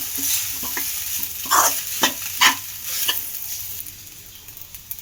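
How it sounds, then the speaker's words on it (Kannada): Veg fried rice stir-fried on high flame, a hissing sizzle with several louder bursts as a spatula tosses and scrapes the pan, close and alone. "ಚೆನ್ನಾಗಿ ಫ್ರೈ ಮಾಡಿ."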